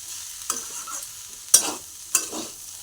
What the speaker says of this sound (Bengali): ভাজা হতে দিয়ে রাখতে হবে